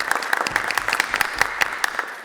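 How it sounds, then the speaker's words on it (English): An audience at a school spring orchestra concert gives a round of applause, a dense, steady clapping from a crowd in a hall, close and loud throughout. "let's give them a round of applause too"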